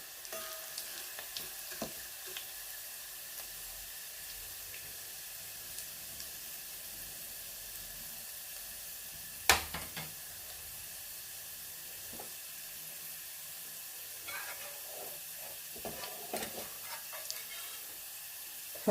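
Spice tempering sizzles in hot oil for tomato rasam, a steady close frying hiss with occasional sharper crackles and pops throughout, no speech.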